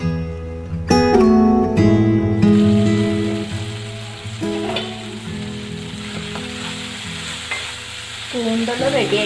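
Stuffed squid cooks with water in a covered pan, giving a loud, steady sizzle and bubbling with some clatter near the start. A few sharp clinks come from the cookware.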